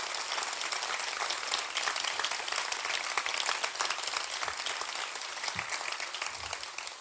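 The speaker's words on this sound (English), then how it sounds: "I'd like to have you give Bryce a round of applause" A room full of people at an awards ceremony gives a sustained round of applause, a thick, even roar of clapping hands that continues steadily throughout, heard at a moderate distance without speech.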